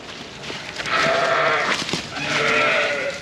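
Hundreds of sheep packed inside a farm shed bleat, with several loud, overlapping calls against a constant background of flock noise.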